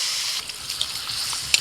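Water poured into a hot pan of spiced, fried potato curry, a short steady hissing gush with a faint crackle near the end, close and fairly loud.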